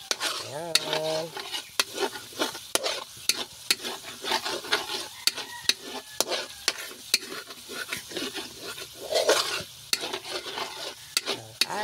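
Coconut milk bubbles and sizzles in a pan as it cooks down into brown latik, with repeated sharp scrapes and clinks of a spoon stirring through it, steady and close throughout.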